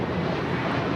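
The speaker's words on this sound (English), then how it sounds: "424 taking off to JFK on the A321." Steady, loud engine roar of a JetBlue Airbus A321 airliner taking off from LAX for JFK, a brief unbroken rush with no voices.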